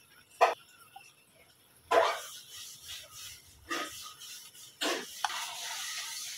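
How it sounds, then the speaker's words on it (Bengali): Khichuri with ghee is stirred in a pot, with about four separate scraping, sizzling strokes spaced a second or so apart against a quiet background. "উল্টাই পাল্টাই দিচ্ছি খিচুড়িগুলো"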